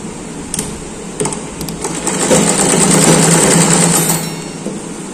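An electric sewing machine stitches a folded sleeve hem on an A-line frock with an umbrella sleeve, a loud, close, steady whirring run that starts after a few short clicks and winds down near the end.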